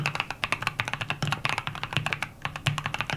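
Fast typing on an Arco Mod 007 mechanical keyboard fitted with Holy Boba switches, crisp rapid keystrokes in an uneven rhythm, close and alone for a few seconds.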